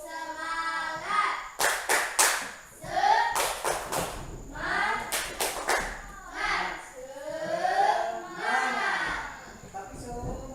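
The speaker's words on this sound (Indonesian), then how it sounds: "Tepuk semangat." A class of children doing a rhythmic spirit clap, sharp claps in quick clustered bursts alternating with the group chanting in unison, fairly close and loud.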